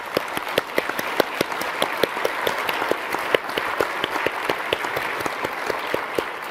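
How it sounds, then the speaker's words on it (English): Keynote audience applause, a steady wash of many hands clapping with sharp individual claps standing out throughout, moderately loud and unbroken. "So I'd just like to give them a round of applause."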